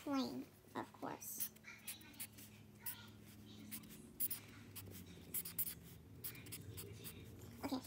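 Pen scratching across paper while writing out letters for the flames game, steady scribbling strokes throughout with a person talking softly over it.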